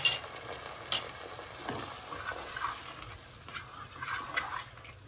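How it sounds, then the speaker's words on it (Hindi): Half a cup of water goes into chilli chicken frying in a pan, giving a steady, moderately loud sizzle with stirring scrapes and a few sharp bursts near the start, with no talk. "तो मैं इसमें हाफ कप जितना वाटर ऐड कर रही हूँ।"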